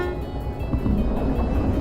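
A train rolls along in the railway game Derail Valley with its brakes released, a steady low rumble of wheels and cars running continuously at close range.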